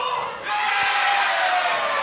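A red-hot wrestling crowd roars and cheers at a Brick King Pro show in Cardiff, a steady, dense wall of noise with a commentator talking over it.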